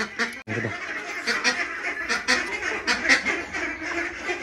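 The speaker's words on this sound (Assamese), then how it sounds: "আৰু এইকেইটা হাঁহ ধৰা হ'ল, এতিয়া জুখি চাব লাগে।" Several ducks quack close by in quick, overlapping bursts, a busy cluster of calls at moderate volume.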